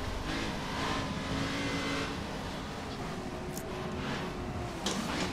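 Racing car engine from rFactor 2 running steadily at high revs near the listener, with a rough, buzzing drone, brief tire noise and a couple of short bursts toward the end, no talk.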